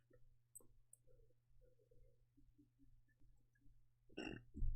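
A person burps near the end, a short loud eructation after a stretch of quiet low murmuring and faint room hum.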